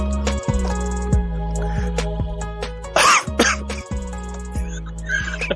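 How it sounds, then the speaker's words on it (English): A single sharp, loud cough bursts out midway during a podcast recording, cutting briefly across steady droning musical tones that continue underneath before and after. "It was the loudest cough I've ever heard in my life"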